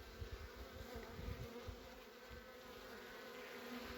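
Faint, continuous buzzing of many honeybees at an apiary hive, a steady drone with no voices.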